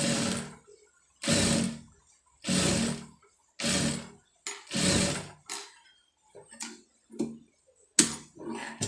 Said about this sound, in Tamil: கொஞ்சம் பொறுமையாக தைக்கணும், அவசரம் இல்லாமல் கொஞ்சம் பொறுமையாக தைக்கணும்